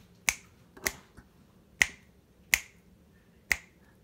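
Five crisp finger snaps, spaced roughly evenly, close and loud against a quiet background.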